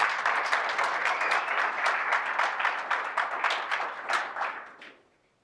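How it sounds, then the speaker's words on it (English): Audience applause after a speaker introduces the director of a municipal electricity effort in Boulder, a dense steady clapping that holds for about five seconds before dying away; no talk over it. "Let's give her a round of applause."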